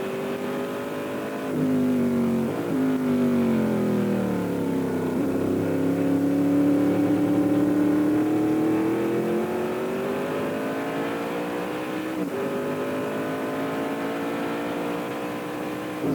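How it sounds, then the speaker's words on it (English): A 5-litre Chevy V8 in an F5000 race car at speed at Ruapuna, heard on board as a loud, steady engine roar whose pitch sweeps down and back up as gears change, with no talk. "Risking a big over-rev there with the 5-litre Chevy."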